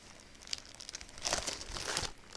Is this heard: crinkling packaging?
yes